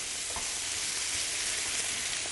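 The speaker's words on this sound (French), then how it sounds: "On va laisser mijoter." Tomato sauce sweetened with honey simmering and sizzling in a pan, a soft continuous bubbling hiss, close and fairly quiet.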